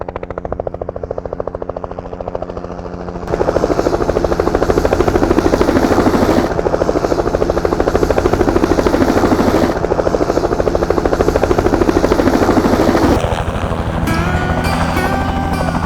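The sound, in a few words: helicopter arriving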